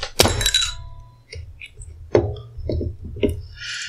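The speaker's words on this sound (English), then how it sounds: "the marble has been pushed down into the bottle" A Ramune soda bottle is opened by pushing its glass marble down into the neck, giving a sharp pop and thunk followed by several light glass clinks and rattles close by.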